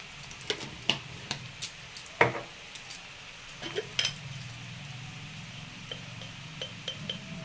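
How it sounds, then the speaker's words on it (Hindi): Chopped sweet potato leaves fry in a pan with a low sizzle while ground spices and salt are tipped in, giving a series of light taps and clinks and a quiet spoon scrape. "अब मैं इसी में डाल देती हूँ कुछ कुटे हुए मसाले, जो ये नमक, स्वाद अनुसार नमक डाल दीजिएगा।"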